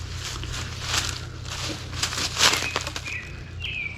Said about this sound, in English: And you hear the birds